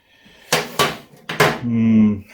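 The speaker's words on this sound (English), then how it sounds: "Now for the magic hammer." Several sharp hammer blows ring on metal, irregularly spaced, followed by a sustained metallic ringing tone, while replacing swing arm bearings on a Suzuki DR200 motorcycle.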